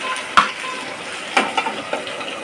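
Brinjal and coriander stuffing curry is being stirred in a pan, with a few sharp spoon scrapes and clinks over a soft, steady background hiss.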